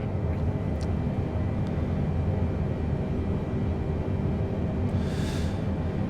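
Steady, loud engine and wind roar of a Boeing 777-300ER airliner descending on approach in Microsoft Flight Simulator 2020, continuous and even throughout, with a faint brief hiss near the end.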